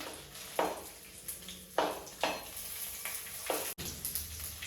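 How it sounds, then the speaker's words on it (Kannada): Mustard seeds, curry leaves and chillies frying in hot oil in a pan, a soft continuous sizzle broken by several sharp bursts of spattering and crackling, heard up close. "ಒಂದಷ್ಟು ಸಾಸಿವೆ ಕರಿಬೇವು ಅದಾದಮೇಲೆ ಮೆಣಸಿನ ಹಾಕೋತೀನಿ"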